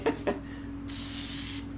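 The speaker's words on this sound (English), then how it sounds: "we're going to spray it with our favorite lubricant" Lubricant sprayed from an aerosol can onto a Schwinn Continental bicycle: a steady hiss of about 0.7 seconds, preceded by two short clicks or taps, moderately close with no talking.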